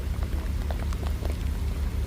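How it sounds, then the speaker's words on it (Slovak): Heavy rain pours steadily outdoors, a continuous dense hiss with a low rumbling undertone that never lets up, with no voices. "Proste jeden normálny zráz a musí drbať dážď."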